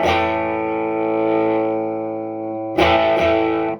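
Electric guitar chords driven through a Chode Blaster distortion pedal set to mimic an amp just starting to break up, a sustained gritty chord ringing out and fading, then two fresh strums near the end.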